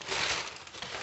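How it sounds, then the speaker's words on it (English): Packaging paper from a product box being handled, a dense, close crinkling and crumpling that runs continuously for about a second, fairly loud and alone. "Packaging paper."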